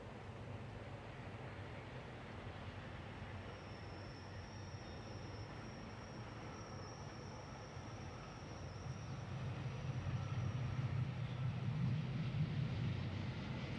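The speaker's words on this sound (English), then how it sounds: "the eastbound Glacier Express appears on the horizon" Eastbound Glacier Express on the Furka-Oberalp Railway approaching from a distance, a steady low rumble that swells louder toward the end with a faint high whine held above it.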